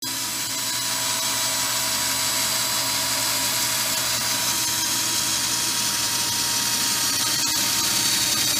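A steady, continuous high-pitched whine of a power drill with a 3/8 bit, drilling an access hole while installing dually fenders on a truck, runs unbroken throughout, close and loud, with no pauses or talking.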